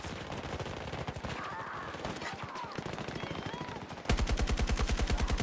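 Gunfire in Battlefield 6: scattered shots under a player's chatter, then a loud, rapid automatic burst of evenly spaced rounds taking over near the end.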